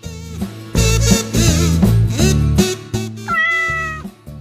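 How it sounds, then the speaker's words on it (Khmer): A cat meows repeatedly and loudly up close, a string of drawn-out, wavering cries with short pauses between them. "ឆ្មាចង់ស៊ីត្រីងៀត"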